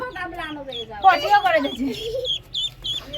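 A Chinese duckling calling with repeated thin, high peeping chirps, close and fairly loud, mixed with a few lower calls and faint background noise.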